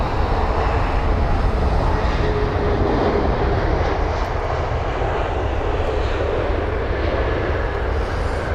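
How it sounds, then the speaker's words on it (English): An Airbus A320neo airliner from Athens lands at Heathrow with a loud, continuous broadband roar that swells and then settles into a steady engine wash, close and with no voices over it. "it's going to be an A320 Neo with a reg Golf Tango November or GTTNN"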